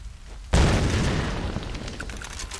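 A grenade launcher explosion in the Tomb Raider video game goes off after a brief quiet moment as one loud, deep boom, then rolls into a long rumbling decay.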